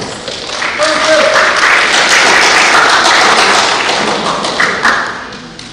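At a youth public speaking competition, an audience claps to welcome a speaker, a loud, dense wash of hands with heavy thuds and taps close by, swelling and then tapering off.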